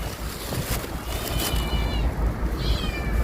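A cat meows twice against steady wind noise and outdoor rumble, the calls fairly faint and partly masked by the blustery background.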